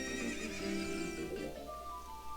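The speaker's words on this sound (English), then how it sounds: "do you want to ride one of my fine horses?" A horse in The Legend of Zelda: Ocarina of Time 3D lets out a single clear, quavering neigh that fades out, set against faint background game music.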